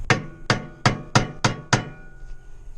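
A hammer strikes a wood chisel wedged against a stuck AR45 pump on a shaft, six sharp, evenly spaced metallic-wooden knocks close up with short ringing decay, no voices.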